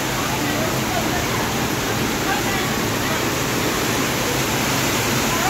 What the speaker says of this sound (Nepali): पानी परेछ र